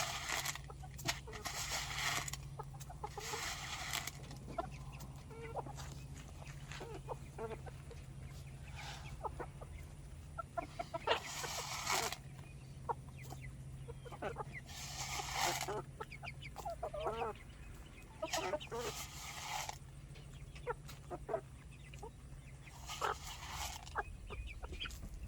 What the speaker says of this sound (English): I have someone over here crowing.